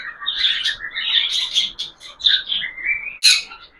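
A recovered pair of pet budgies chirping close by, a quick run of bright warbling chirps and tweets with brief gaps and a sharp squawk near the end, with no voices.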